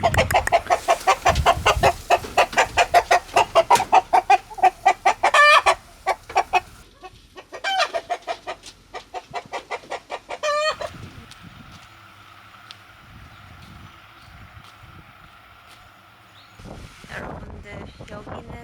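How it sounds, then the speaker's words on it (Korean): Chickens clucking close by in rapid, repeated bursts with some louder squawks and a crowing rooster, then a quieter stretch of background noise before another call, with a person talking briefly in between. "닭이 여기 있네."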